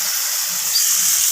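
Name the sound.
onion and tomato frying in a pan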